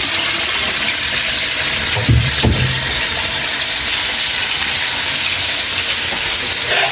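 Chicken frying in hot oil, a steady loud hiss and crackle of splattering grease throughout, with a brief thud partway through.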